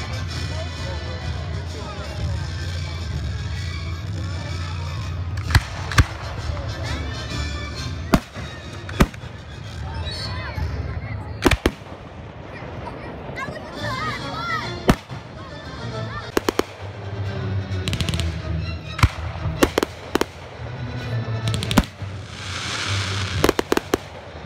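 Fireworks display with repeated sharp bangs and crackling bursts scattered irregularly over a rumbling background, some loud close pops, with people talking and music faintly underneath.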